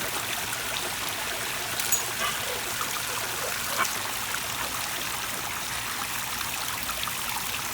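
Steady water flowing and trickling from a concrete fountain, a constant broad hiss of running water with a few small splashes, close by and no talking.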